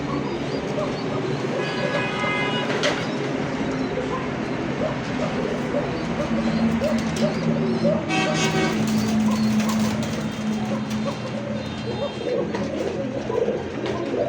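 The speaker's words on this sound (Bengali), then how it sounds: "খুব ডাকা ডাকে ভাই, তাদেরই কিন্তু বাচ্চা কাচ্চা এই সমস্ত কবুতরগুলো দেখেন" Pigeons, including young ones of fancy breeds, coo repeatedly in a loft with low rhythmic calls that continue throughout, over a background of household noise and a few sharp toots.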